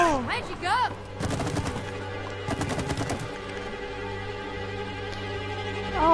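Gunfire in the video game It Takes Two, bursts of rapid shots clustered in the first half. Cartoonish voice effects and background music are mixed in.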